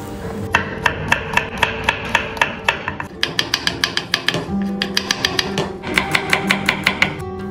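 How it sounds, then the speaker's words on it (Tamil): A knife chops about 250 grams of small onions (shallots) on a cutting board, with rapid, regular taps in quick bursts and short pauses, close and crisp. "நெக்ஸ்ட்டு சின்ன வெங்காயம் ஒரு 250 கிராம் எடுத்து கட் பண்ணிக்கலாம்"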